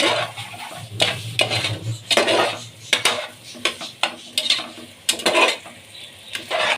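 A spoon is stirring prawn biryani masala in a cooking pot, making repeated scraping clinks against the metal in an uneven rhythm over a soft, low sizzle, with no voices.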